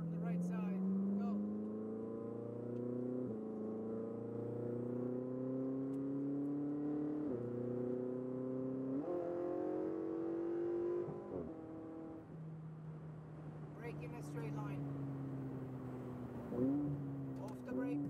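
A Ferrari 488 GTB accelerating hard on a Las Vegas track, its loud, close engine note climbing steadily in pitch, with several abrupt drops where it shifts gears before pulling upward again.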